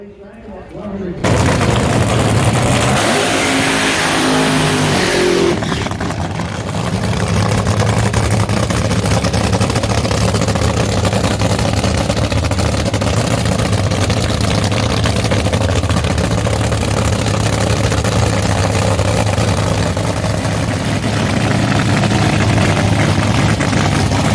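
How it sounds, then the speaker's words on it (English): Nitro funny cars and fuel altereds launch side by side in a drag race at Eddyville Raceway Park, a loud, continuous, close engine roar that surges in after a second and holds steady throughout. "good little drag race right there"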